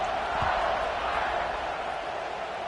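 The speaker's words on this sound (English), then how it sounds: "this crowd is buzzing after that last score" Stadium crowd noise from a college football video game, a steady broad roar with no clear peaks, heard right after a kickoff following a score.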